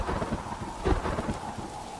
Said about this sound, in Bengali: কত জোরে বৃষ্টি নামছে